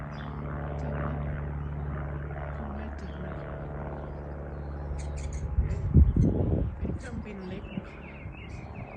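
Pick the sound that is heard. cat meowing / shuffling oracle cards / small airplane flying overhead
small airplane flying overhead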